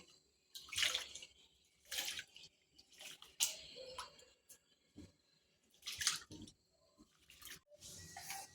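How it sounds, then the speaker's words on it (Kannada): Rice being washed by hand in a bowl of water for mushroom biryani, with bursts of sloshing and splashing water separated by short pauses, close and fairly loud, with no voices. "ಈಗ ಅಕ್ಕಿನ ತೊಳೆಯೋಣ"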